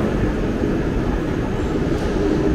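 A Metronom regional train rumbles steadily close by in Germany, a continuous low roar of wheels and motors with no voices.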